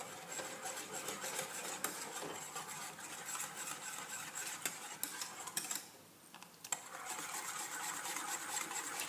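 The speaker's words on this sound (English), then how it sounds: "Just keep whisking it." Pastry cream being whisked in a pan as it thickens: a steady, quick rhythmic scraping and ticking of the whisk, close and fairly quiet, with a brief pause partway through.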